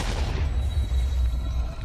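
In a modded Minecraft 1.7.10 world, nether quartz pops off in a video game explosion, a low booming rumble with rapid crackling bursts that carries on steadily for a couple of seconds without speech.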